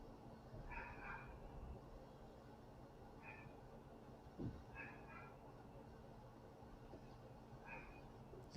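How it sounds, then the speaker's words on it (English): A few short, distant barks or yelps at irregular intervals, faint over a low background hum. "I hear a dog."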